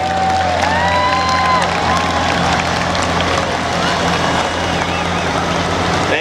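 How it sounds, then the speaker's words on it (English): A crowd at the Holland/Zeeland Labor Day truck parade applauding the Michigan Army National Guard: continuous clapping and cheering with whistles, under a voice over a loudspeaker. "a special round of applause for the Michigan Army National Guard"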